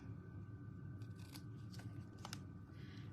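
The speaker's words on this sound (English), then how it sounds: "Okay, then my scissors." Scissors snip paper a few times for a Christmas card, crisp short cuts spaced irregularly over a steady low background hum.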